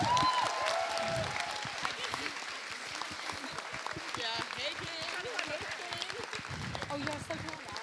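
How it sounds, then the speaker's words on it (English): Sustained applause from a live audience at a university dance society's show, a dense steady wash of clapping with crowd noise that holds throughout, loud and close. "so a round of applause for them,"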